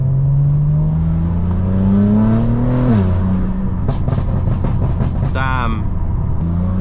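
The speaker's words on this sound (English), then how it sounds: "I can't believe how loud the burbles are on this car." Loud BMW M4 engine revving with crackling, popping exhaust burbles near the microphone, a deep rumbling drone underneath throughout.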